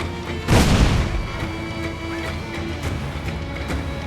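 A single deep, loud cannon blast booms from a ship's broadside in the pirate game Assassin's Creed 4 Black Flag, then fades into a steady rumbling background with sustained tones.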